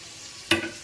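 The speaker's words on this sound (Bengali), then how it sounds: "হালকা ভাজার পর এখানে ক্যাপসিকাম আর আলুগুলো সব এখানে দিয়ে দেবো" A single quick burst of sizzling and scraping as capsicum and potatoes drop into a pan of frying egg, a sharp crackle that fades within a moment after a quiet start.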